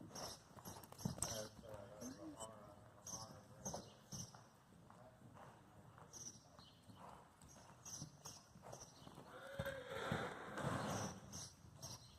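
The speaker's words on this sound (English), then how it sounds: "That must be the new horse in there." Horse hooves clip-clop at a walk amid a busy stable setting, with people talking throughout and a horse nearby.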